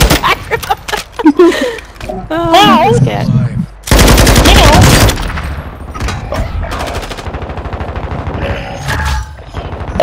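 A video game firefight in squad mode: dense, loud bursts of automatic weapon fire, with rapid cracks and booms overlapping across the whole stretch and excited voices talking among the shots.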